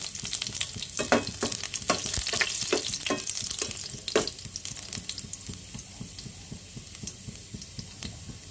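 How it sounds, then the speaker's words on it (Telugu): Oil sizzling in a pan on the stove as garlic fries, a steady hiss broken by louder spattering bursts and a few stirring scrapes early on, settling toward a gentler sizzle later. "స్టవ్ మీద ప్యాన్ పెట్టుకొని 4 టీ స్పూన్స్ ఆయిల్ వేసుకొని ముందుగా ఎల్లిపాయలు వేసుకోండి"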